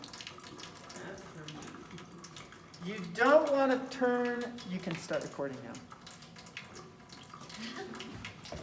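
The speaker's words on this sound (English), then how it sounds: "You'll want a sink or something that has a flow of water." Water runs from a sink tap in a steady stream, swelling louder midway, while someone talks over it.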